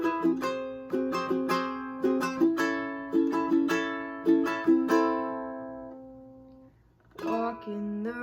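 A ukulele plays the chorus chords of a song with bright plucked strums that ring and decay, followed by a short pause and a final strum, close and fairly soft.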